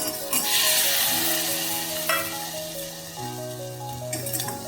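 Moringa drumstick pods frying in a pan with turmeric, a close, fairly loud sizzle running throughout, with a few brief clatters as the pods are tossed in, plus a low steady hum underneath.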